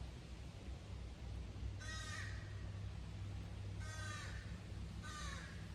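Crows caw in pine trees in Maine, three short harsh bursts spaced a couple of seconds apart over a steady low rumble of background noise.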